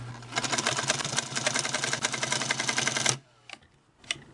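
A Singer 221 Featherweight sewing machine runs close and fast, its needle hammering in a quick even rattle for about three seconds. Then it stops, leaving a few faint ticks and clicks.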